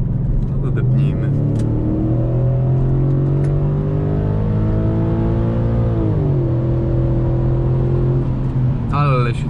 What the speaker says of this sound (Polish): Ale się tutaj pięknie kręci ten samochód, bardzo wysoko.